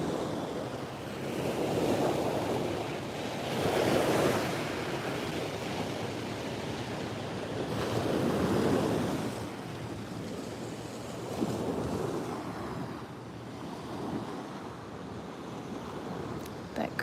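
Ocean waves break at the shore in Maui at dawn, rolling swells surging every few seconds over a steady bed of wind and surf wash, with no voices.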